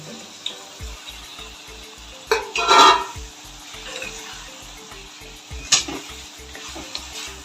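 Dry chicken pieces for chicken sukka are stirred into a fried masala with the oil separated, giving a steady low sizzle with scraping spoon strokes and a few louder clanks against the pan; nobody speaks.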